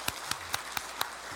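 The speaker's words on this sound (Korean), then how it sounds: "감사하다고 박수 한번 하겠습니다" A church congregation at a Korean Advent Sunday afternoon service claps together in a slow, steady rhythm of about five distinct claps over a soft, steady background, with no talking.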